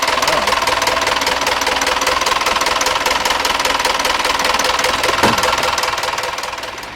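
The engine of a Vagabond 42 sailboat runs loud and close with a steady, rapid knocking rhythm that holds for several seconds before easing off slightly at the end.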